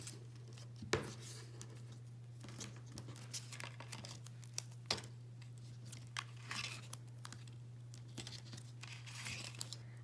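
Tape being pulled off and torn while assembling a paper door-hanger gift card holder, heard as scattered soft crinkles and a few sharp tearing snaps over a steady low hum, faint and close, no talk.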